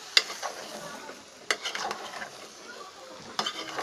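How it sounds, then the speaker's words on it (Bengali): Shrimp and potatoes being stirred into a cooked-down spice masala, with a soft sizzle underneath and a few sharp scrapes and clinks of a utensil against the pot, close and fairly quiet, no voices. "তো আমি একটু নাড়া দিয়ে দিতেছি।"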